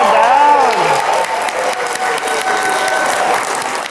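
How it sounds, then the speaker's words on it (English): Studio audience applauding steadily on a Christmas-themed game show stage, a dense continuous clatter of clapping with faint cheers and a rising voice tone early on. "Keep applauding, ladies and gentlemen."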